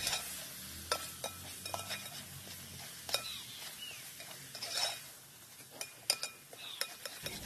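Tomato is stirred into masala in a pan for catering-style chicken biriyani, with a soft sizzle under repeated scraping and clinking of a metal spoon against the pan, fairly quiet and irregular.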